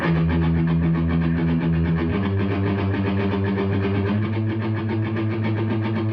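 A heavily distorted electric guitar played through a pedalboard chugs thick, buzzy chords continuously, with a low rumbling drone and a change of chord about midway.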